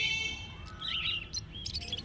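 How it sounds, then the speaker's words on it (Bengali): A flock of lovebirds, including lutino lovebirds, chirps at a bird market, with several quick, high twittering calls overlapping close by over a low background murmur. "এখানে দেখতে পাচ্ছেন এক ঝাঁক লাভবার্ড পাখি আছে"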